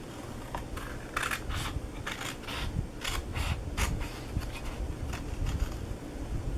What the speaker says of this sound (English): It helps to have large scissors like these.